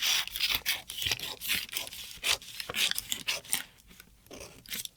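Scissors snip through dress fabric along marked lines for an eight-panel polka-dot dress, giving a quick series of crisp, close cuts with soft rasping between blades.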